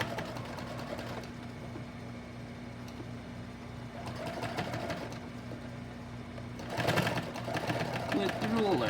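Husqvarna Viking 1100 sewing machine running with a darning foot during free-motion ruler work, a steady mechanical stitching whir in short bursts that speed up near the end, with faint background hum.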